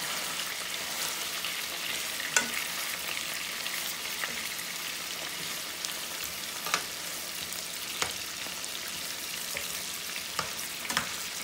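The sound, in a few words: onions frying in garlic butter and olive oil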